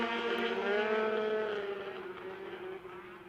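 Racing snowmobiles at a power toboggan championship rev hard off the starting line, a loud buzzing engine whine that climbs in pitch, then slowly fades as they pull away.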